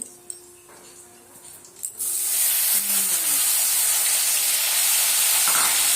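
Vegetables fry slowly in a pan for vegetarian khichdi. A quiet stretch with a faint hum gives way to a sudden loud, steady hiss that holds to the end.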